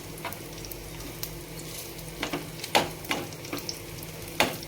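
Shrimp fritters sizzling in hot oil, a steady crackling hiss broken by sharp pops and spits, close and alone with no talk.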